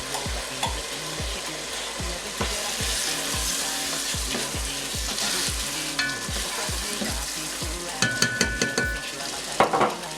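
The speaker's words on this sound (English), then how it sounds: "You add the dry fish to the pot." Deboned dry fish fries in a pot for Nigerian efo riro vegetable soup, sizzling steadily while a spoon stirs in a regular rhythmic scrape, ending with a few sharp metallic clinks.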